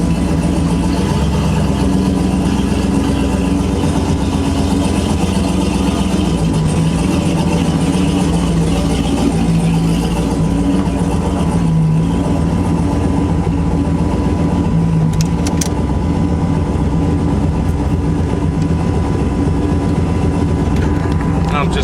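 An LS-swapped Ford Foxbody Mustang idles loud and close while warming up, holding a steady rumble with slight wavering in pitch, and a person talks faintly over it.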